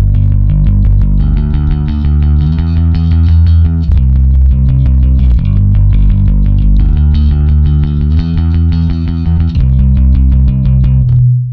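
Sterling SUB Series Ray 4 bass guitar played through a bass amp with a boost engaged, a loud, driven, gritty bass line of steady repeated notes, close and continuous with no speech.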